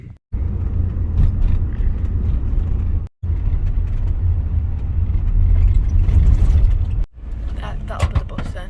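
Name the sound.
bus passing on the road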